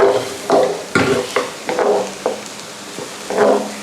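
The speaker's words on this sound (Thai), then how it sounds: "ผัดให้มัน หอมเข้ากัน นะครับ" Gumbo base with smoked paprika being stir-fried in a pan, with a low sizzle under repeated scraping strokes of the spatula in an uneven rhythm, close and fairly loud.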